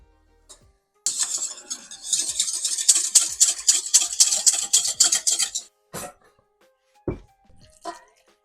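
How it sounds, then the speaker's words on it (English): Yeast, sugar and water are whisked in a bowl for pizza dough, a rapid rhythmic metallic scraping that runs several seconds close up, then stops, followed by a few isolated knocks. "we're just going to whisk this up together"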